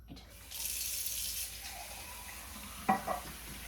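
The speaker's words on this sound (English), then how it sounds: "I'm going to fill it with some warm water" Warm water runs from a kitchen tap into a glass for about a second, a soft steady hiss that then fades, followed by a brief clink near the end.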